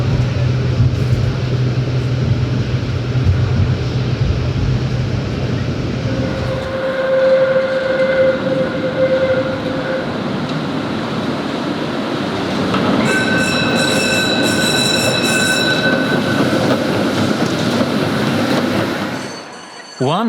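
A three-car Konstal 105Na tram runs through Poznań, its loud rolling rumble giving way to sustained wheel squeals and tonal whines as it rounds a curve nearby, ending with a brief drop.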